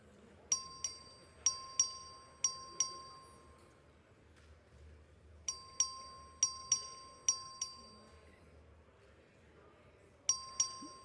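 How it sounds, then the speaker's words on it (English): A clerk's voting bell rung on the Texas House floor sounds as three bursts of bright, repeated dings, each group of four or five metallic strikes decaying quickly, separated by quiet pauses over low room hum. "The clerk will ring the bell."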